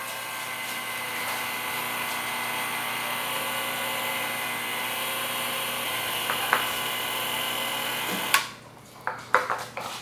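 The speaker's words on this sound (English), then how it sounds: "we're gonna use the mixer because I just feel like using this mixer" An electric mixer churns peanut butter carrot dog cake batter in a bowl, a steady close motor whir lasting about eight seconds before switching off, followed by a few clattering knocks.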